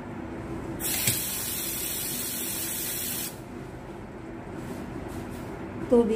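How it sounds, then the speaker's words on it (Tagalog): Water poured or sprayed from a tap into a bowl of chapati dough mix, a steady hiss running for about two and a half seconds before stopping, with quiet room noise around it. "Tubig lang guys ang ilagay."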